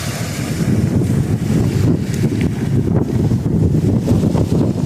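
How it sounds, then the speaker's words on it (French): Strong outdoor wind buffets the microphone in a continuous, loud, rumbling roar that surges slightly but never lets up, with no voices. "On a un bon vent encore aujourd'hui. Très bon vent, même."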